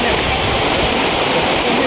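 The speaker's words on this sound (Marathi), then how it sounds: "समोर आहे ओझरडे गावातील ओझरडे धबधबा" Ozarde waterfall in Maval, a tall cascade plunging from a big hill, roars as steady broadband rushing water, loud and close with no break across the stretch.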